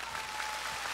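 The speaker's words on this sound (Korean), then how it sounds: "박수로 환영해 주십시오." A crowd claps steadily at a televised Korean singing contest, a dense even patter of applause from many hands.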